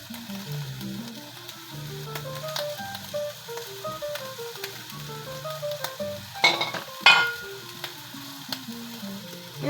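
Oil sizzles steadily in a pan while adobong sitaw (string beans in adobo) cooks, a continuous close frying hiss with louder crackling bursts midway and a melodic tune playing throughout.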